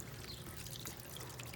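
Water runs steadily through a small pump-fed bird bath, a soft continuous pouring trickle heard up close with no voices.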